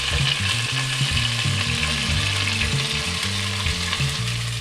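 Baby back ribs searing in a pan, a loud continuous sizzle and crackle with low droning hum and occasional stirring scrapes, no voices.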